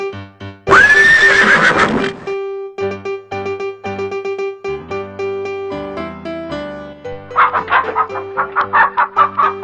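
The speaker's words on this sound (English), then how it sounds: "Horse." A horse lets out one loud, long whinny near the start, followed by light rhythmic clip-clop and clucking-like bursts over a sustained musical tone.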